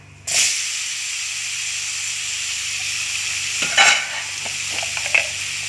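Mustard seeds and chili powder hit hot oil with a sudden loud sizzle that settles into a steady hiss, with a few small crackles and pops near the end.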